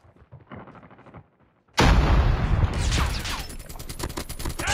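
Video game gunfire erupts suddenly after a quiet stretch, with a loud burst of rapid shots and booms continuing densely to the end.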